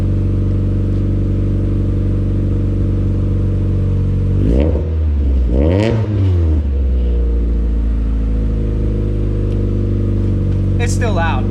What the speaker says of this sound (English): I do just want to just tap the revs a little and see what it sounds like.